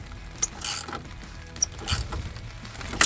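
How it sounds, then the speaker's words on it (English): Ratchet tightening the mounting bolts of extendable towing mirrors on a 2007-2013 Chevrolet Silverado 1500, a few short mechanical clicks and creaks heard close up in scattered bursts over a quiet background. "and then I'll put some torque on it"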